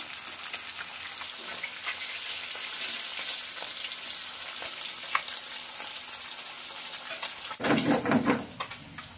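Rui fish frying in a pan, a steady close crackling sizzle that continues throughout, with a brief louder burst of spattering and stirring near the end.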